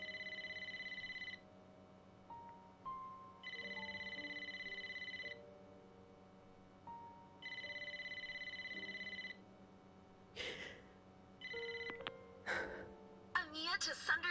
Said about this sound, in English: Not the damn phone again